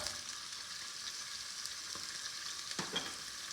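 Diced celery, two stalks, tipped into a pan where sausage has already browned, giving a soft continuous sizzle with a few brief stirring scrapes near the end.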